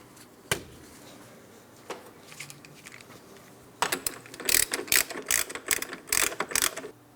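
Hand ratchet tightening the front axle nut on a 2004-2008 Pontiac Grand Prix after strut replacement, a few sparse clicks at first, then a rapid run of close, sharp ratcheting clicks.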